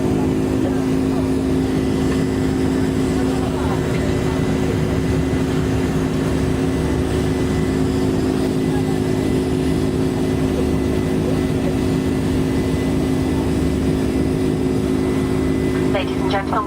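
Inside the cabin of a Virgin Atlantic Boeing 747-400 climbing out of Gatwick, a constant loud engine roar and airflow rumble holds steady throughout, with a low droning hum and no talk.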